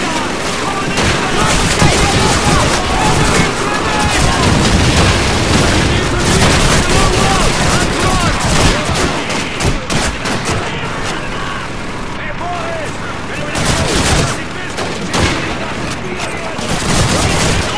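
MP40 submachine guns fire in Call of Duty 2, with dense rapid bursts and overlapping shots blending with booms, while a player talks over the nonstop gunfire.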